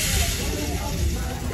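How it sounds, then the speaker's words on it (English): Food sizzling on a hot grill in a cruise ship test kitchen restaurant, a continuous loud hiss filling the space with a low rumble of room noise beneath. "Some sizzling, y'all."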